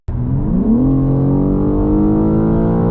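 A 2022 BMW M4 Competition xDrive engine bursts to life under full-throttle acceleration, a loud, close roar that climbs steeply in pitch within the first second and then holds a sustained, strained drone.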